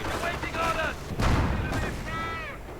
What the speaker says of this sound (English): Hellcat moving in to intercept though with his 50 caliber